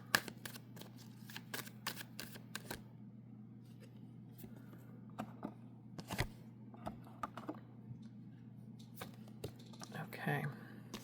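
Tarot cards are shuffled and snapped in sharp, irregular bursts of crisp slaps and riffles, close and fairly quiet over a steady low hum, with louder clusters near the middle and end.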